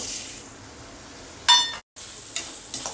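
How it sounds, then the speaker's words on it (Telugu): Coriander seeds are dry roasted in a few spoons of oil in a pan over a low flame. A soft, steady sizzle runs throughout, with a couple of brief stirring scrapes and no voices. "సన్నమంటలో మంచి సువాసన వచ్చేదాకా దోరగా వేయించుకోవాలి"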